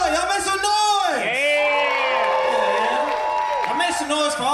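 A comedy show audience cheers, whoops and yells loudly and steadily, with shouting voices rising and falling across the crowd for several seconds.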